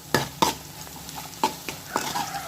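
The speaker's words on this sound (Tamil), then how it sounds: "பாருங்க, வெங்காயம் நல்லா வதங்கிட்டு இருக்கு." Onion and garlic sauté in a pan with a soft sizzle under a few sharp scrapes and clinks of a spoon stirring, close up and without speech.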